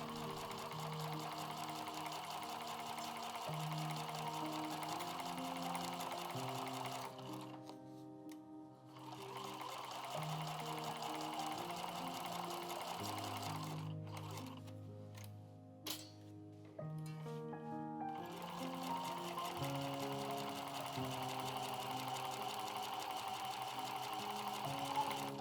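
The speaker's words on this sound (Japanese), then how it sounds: "縫います。" A sewing machine stitches patchwork fabric for a slim shoulder bag, running in a steady mechanical whir with two short pauses before starting again, close and continuous without talk.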